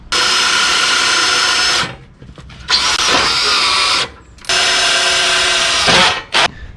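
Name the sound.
power drill drilling holes in floor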